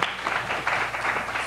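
Brief audience applause at a panel event on technology and political engagement, a short burst of many hands clapping that swells and holds, somewhat muffled in a hall.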